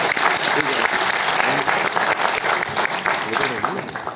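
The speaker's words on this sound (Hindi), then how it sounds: "एक जोरदार क्लैपिंग उनके लिए" Loud applause from an audience at the Nexmoney Vision 2021 event, dense and sustained clapping that fills the whole stretch without pause.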